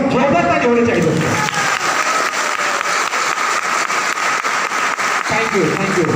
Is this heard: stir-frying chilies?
no